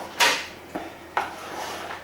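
A spoon scrapes and knocks against a bowl while flour is folded into vegan ginger nut brownie batter, three separate clinking strokes with short pauses between them and softer scraping after.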